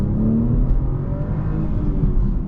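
A 2023 BMW M240i's engine and exhaust drone steadily from inside the cabin with its synthetic iconic sounds switched off, a low continuous rumble that rises slightly under acceleration.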